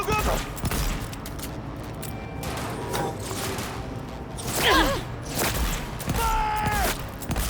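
Gunfire erupting during a firefight in Cyberpunk 2077, a jumble of shots and thumps spread across several seconds, mixed with clanking mechanisms and rising whirring tones, fairly quiet overall amid battle noise.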